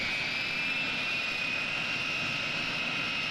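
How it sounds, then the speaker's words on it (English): A KC-135 tanker, a converted Boeing 707 jet, passes overhead with a steady engine roar and a high whining tone, continuous and fairly loud, with no voices. "their actual designation is a KC-135."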